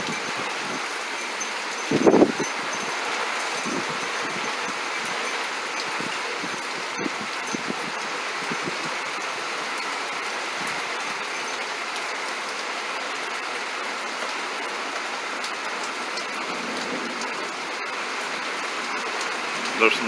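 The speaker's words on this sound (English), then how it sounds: "It's raining pretty good." Steady rain falling on an October day in Florida, a broad continuous hiss throughout with a brief louder patch early on; no talk over it.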